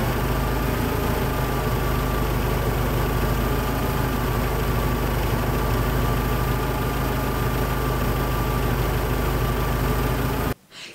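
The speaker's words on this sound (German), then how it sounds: "Aber die Hauptsache ist, der Motor läuft." A Mercedes W201 190E petrol engine idles steadily and close by after 26 years of standing, a constant low rumble with an even hum that runs alone for about ten seconds before cutting off abruptly.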